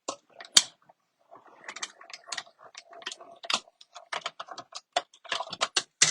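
Mini Stampin' Cut and Emboss machine cranking paper through a set of dies, a run of close, dry clicks and ticks in an irregular mechanical rhythm with one sharp snap near the start.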